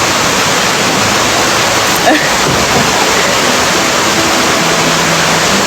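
A stream in Chiang Mai flows and rushes steadily beside the listener, a loud, dense, continuous wash of water with faint voices now and then beneath it.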